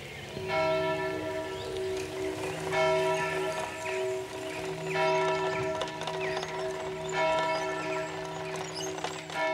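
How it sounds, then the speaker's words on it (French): Church bells ring out the hours in a series of loud, resonant strokes with long humming decay, with faint clopping in the background and no voices. "Les cloches des heures."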